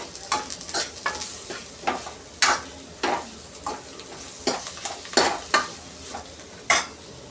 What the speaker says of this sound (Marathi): त्यामध्ये आपल्याला थोडीशी कोथिंबीर टाकायची फोडणीमध्ये.